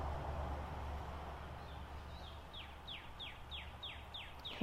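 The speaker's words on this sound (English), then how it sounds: "hear the birds singing." Faint birdsong outdoors in spring: a series of quick, repeated descending chirps growing more regular, over a soft background hum.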